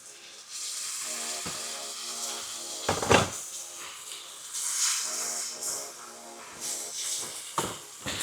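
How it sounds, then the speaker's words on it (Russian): Hot water goes into a hot pan of fried flour, bursting into loud steaming hisses with a sharp clatter partway through, then settling into softer sizzling and occasional knocks. "И теперь добавляю сюда горячую воду."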